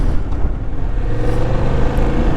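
A motorcycle rides along on a sunny day, a loud continuous engine rumble with wind noise and slight rises and dips in pitch, heard close with no talk.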